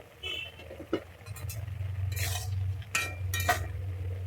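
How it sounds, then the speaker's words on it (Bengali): A metal lid comes off a cooking pot of Bengali sola kochu vegetable curry with a few sharp clinks and scrapes over a steady low simmering hum. "ঢাকনাটা খুলে দেখে নিচ্ছি"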